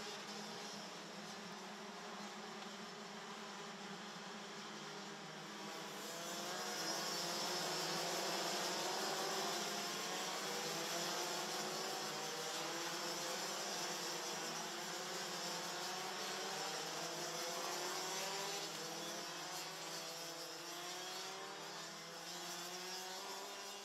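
A pack of DD2 racing karts drones past together on the formation lap, a dense, continuous buzz of many engines that swells a little and then holds steady at a distance.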